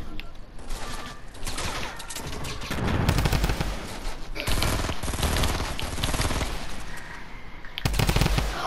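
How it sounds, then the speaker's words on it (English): In the Fortnite video game, a drum gun fires rapid, sustained bursts of automatic gunfire, loud and close, with short pauses between volleys. "Drum gun! Found the drum gun."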